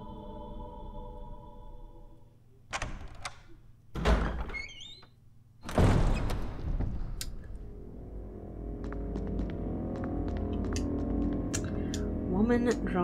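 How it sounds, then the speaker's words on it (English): Door opening in the Resident Evil HD video game: a few sharp heavy thunks and clunks from the door mechanism, followed by a sustained low tonal game ambience, with a voice talking partway through. "Alright, I think this is the door I need to go into."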